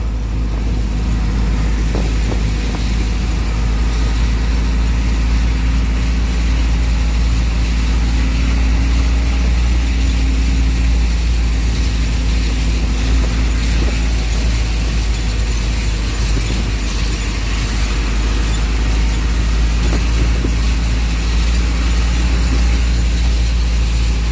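Constant heavy drone of traffic and motorcycles passing on a road near Taytay in heavy rain, a loud, steady low rumble with engine tones rising and falling, no talk.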